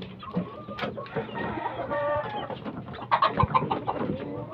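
Young Peruvian gamecock chicks peeping and clucking close by, a busy run of short overlapping chirps with no talking.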